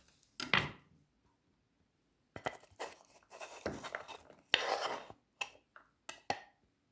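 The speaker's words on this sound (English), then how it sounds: "So just cut all apples on these cubes." Apples diced into cubes with a knife on a kitchen board, giving a few crisp, close chopping and scraping bursts separated by pauses, with a louder cluster of cuts near the end.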